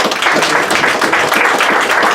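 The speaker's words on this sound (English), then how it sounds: "Let's give Roger a hand." A crowd claps for a speaker at an outdoor political picnic on a brisk June afternoon, steady dense applause close and loud throughout with no voices over it.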